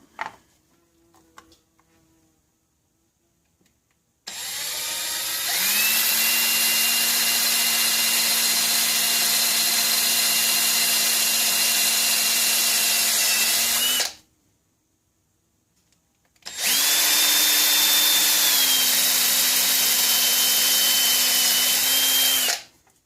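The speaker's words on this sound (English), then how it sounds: "Now maybe it'll drill." A power drill drilling diamond plate whines steadily in two long bursts, the second starting after a short pause, loud and close with a slight pitch dip in each run.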